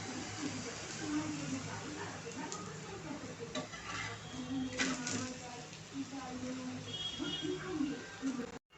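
Spinach paratha roasting on a hot pan, a soft continuous sizzle with light scraping and stirring of a utensil against the pan, faint and close, someone talking over it.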